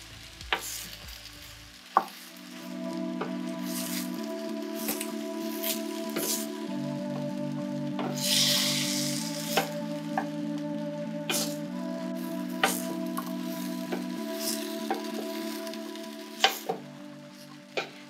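Matoke simmers with spices over low heat in a pot, giving a soft continuous sizzle and bubbling with occasional sharp clicks and pops, alone and close.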